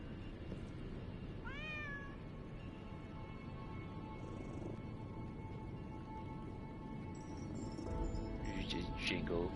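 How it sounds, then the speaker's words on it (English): A cat meowing in the video game Lies of P, a single rising meow near the start followed by soft game ambience, with another brief sound near the end. "now we can pick up the kitty"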